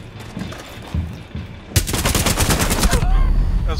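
Rapid automatic gunfire in the video game Rainbow Six Siege, a loud close burst of fast-repeating shots after a few quieter thuds, with voices talking over the game.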